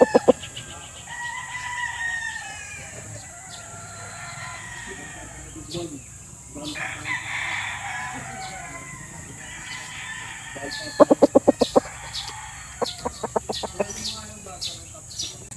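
Roosters and hens crow and cluck at a gamefowl yard holding a black Boston straight-comb bird, with drawn-out crows in the first half, then bursts of sharp clucks and calls, near and fairly loud, over faint outdoor background.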